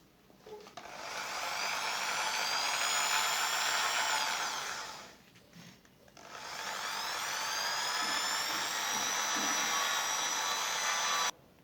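An engine valve is ground into its seat with a drop of WD-40 or kerosene, heard as two long, steady whirring grinding bursts with a short pause between them, close and fairly quiet.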